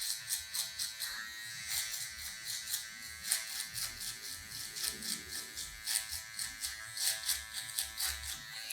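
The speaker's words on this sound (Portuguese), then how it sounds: "eu já vou usar a própria maquininha de acabamento para remover" An electric hair trimmer buzzes close up as it removes a guide line during a V-shaped mid fade haircut, its whine pulsing in rapid, uneven passes against the hair, with no talking.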